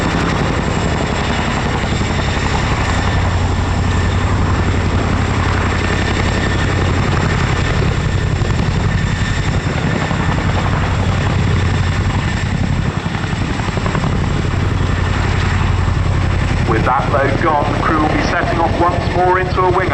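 A Chinook helicopter hovers loudly overhead at an RAF Cosford display while dropping off an underslung load, its deep, continuous rotor throb and engine roar filling the air without a break.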